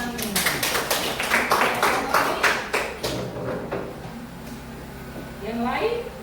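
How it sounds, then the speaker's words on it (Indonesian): A classroom claps for a classmate, a quick run of hand claps that fades after a few seconds, with a teacher's voice over and after it. "Tepuk tangan buat temanmu."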